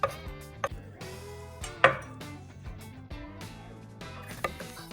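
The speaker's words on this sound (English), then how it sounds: "And chop it nicely." A knife chops cilantro on a cutting board for homemade ranch dressing, giving a run of crisp, close, moderately loud cuts with uneven spacing and no talk.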